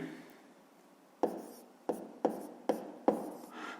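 Pen writing math figures by hand on paper, a soft continuous scratch followed by four or five distinct stroke taps close up, with no talk.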